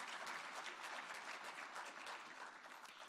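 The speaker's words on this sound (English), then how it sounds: "that's worth a round of applause" Steady applause fills a hall honoring small businesses at a Senate tribute, a dense, even wash of clapping from the audience with no voices, holding at a moderate distance throughout.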